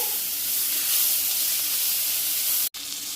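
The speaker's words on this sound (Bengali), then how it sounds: "এর মধ্যে হাফ মানে অর্ধেকটা পেঁয়াজ দিয়ে দিলাম পেঁয়াজ কুচি সেটাকেও ভাজা ভাজা করে নিতে হবে" Chopped onion sizzles steadily in hot oil in a pan for a Bengali spicy puti fish curry, a close, continuous frying hiss with a brief dropout near the end.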